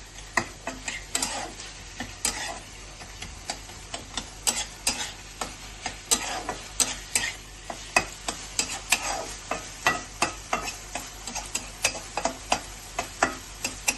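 Lentil dumplings (bori) being stirred in a pan over a raised gas flame, with steady sizzling and a brisk series of sharp scraping and clacking stirring strokes, close and clear with no voices.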